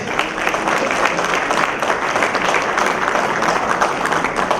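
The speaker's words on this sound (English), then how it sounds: "I want a round of applause for this one at least." A conference audience at a real estate event claps in a round of applause for a presented residential development. The clapping is loud, close and continuous, with a slightly uneven, pattering texture throughout.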